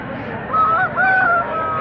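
Red rooster at a village poultry market, giving two loud, close, honking calls above a busy crowd murmur.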